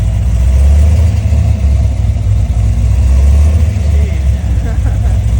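The LS3 V8 in a drift-built FR-S runs with a loud, steady, deep rumble, holding a fairly even note throughout without sharp revs.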